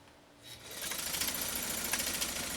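A Necchi SuperNova sewing machine starts up and runs steadily, stitching a cam 30 pattern with a fast, even mechanical chatter that holds close and clear after a brief quiet start.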